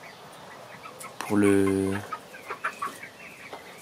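Chickens in a backyard breeding pen with young hens and a rooster: one loud, drawn-out bird call rings out close by, followed by several short clucks, with a few spoken words.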